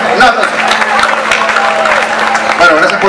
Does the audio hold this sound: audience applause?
yes